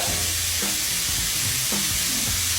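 Food frying in cooking oil in a pan, a dense continuous sizzle with stirring scrapes and soft clunks breaking through at intervals.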